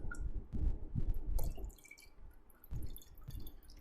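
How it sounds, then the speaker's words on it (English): Sodium hydroxide lye solution, mixed one-to-one with water, strained for cold process soap, gives a run of close wet drips and splashes in uneven bursts, loudest early on, then quieter and sparser before a final cluster. "Next up is our sodium hydroxide solution. And I'm going to strain this for you."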